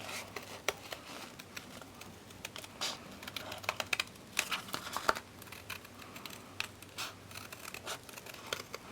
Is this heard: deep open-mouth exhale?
no